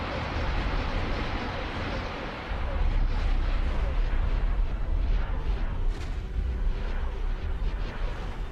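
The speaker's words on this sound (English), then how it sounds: "The laser barrage never gets old, it doesn't, does it?" A laser barrage in the Star Wars Interworlds game with an Imperial fleet: a dense, continuous roar of overlapping blasts that gets louder partway through and keeps pounding without a break, with a voice talking under it.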